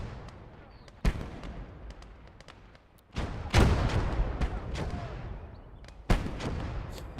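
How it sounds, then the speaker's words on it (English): Mortar fire in the Gates of Hell WWII game on a Finnish front, three heavy booming blasts spaced a few seconds apart, each with a long rumbling tail over distant crackling gunfire. "That is a mortar."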